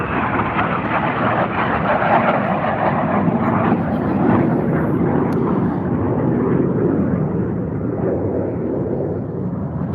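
A jet racing aircraft passes the pylons at the Reno Air Races with a loud, sustained roar that swells slightly and then eases as it moves past.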